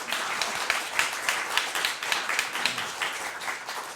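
Applause for the panelists at a May 2012 panel gathering in a hotel: a full room clapping continuously in an even, crackling roar, steady in loudness throughout.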